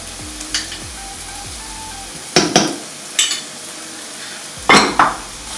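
Butter sizzling in a hot pan, a steady soft fry broken by a few sharp utensil clanks and scrapes against the metal.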